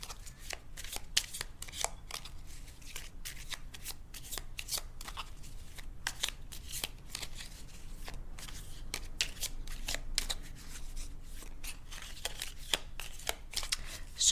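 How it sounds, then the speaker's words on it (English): Cards from a tarot deck shuffled and picked by hand, a steady run of soft crisp riffles and flicks repeating close up for the whole stretch, with no talking. "I'm picking one card from this tarot deck to begin with"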